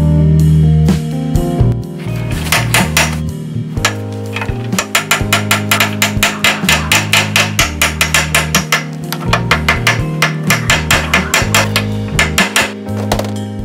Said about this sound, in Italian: Adesso diamo dei colpi di martello per far cadere i pistoncini dall'interno.